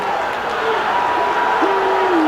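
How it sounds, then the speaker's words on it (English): Football stadium crowd at a 2007 Florida Gators game at Ole Miss, a loud sustained roar of disapproval filling the clip beneath a commentator's voice, steady and broad with no breaks. "crowd booing"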